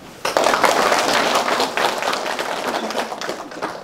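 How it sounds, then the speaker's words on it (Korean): An audience at a 2023 New Year practical farming education session in Namwon, South Korea, claps for an agricultural counseling office head about to lecture; a dense burst of applause starts abruptly and holds steady, close and fairly loud. "박수 한번 주십시오"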